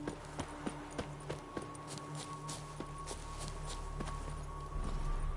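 Roach, Geralt's horse in The Witcher 3: Wild Hunt, clip-clops along with regular hoofbeats over steady ambient game sound and music, the pace quickening and growing louder near the end.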